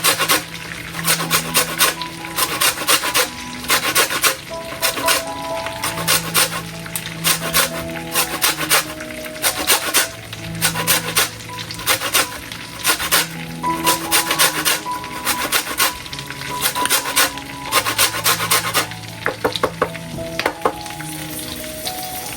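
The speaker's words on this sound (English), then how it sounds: "we're just going to grate some lime zest into the sauce, into the garlic butter" Lime zest grated on a handheld grater into a garlic butter sauce, giving a steady run of close, dry rasping strokes that repeat in quick, even rhythm throughout.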